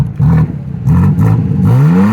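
A 2025 BMW M4 Competition xDrive Coupe engine revs close by, three quick throttle blips in a row, then a longer climbing rev that rises steadily in pitch, loud and throaty with no talking.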